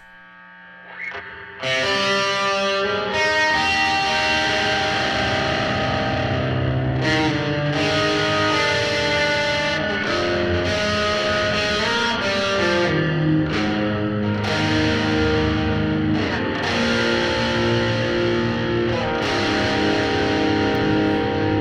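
An electric guitar plays a long passage of chords and single notes through a Klowra Limbo reverb pedal and a Rat distortion pedal, heavy distortion with spacious reverb, loud and continuous.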